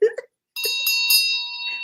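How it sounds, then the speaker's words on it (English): A small hand bell rung by a tarot reader gives a bright, clear ring that sustains and slowly fades, following a brief bit of speech. "let me give you a bell"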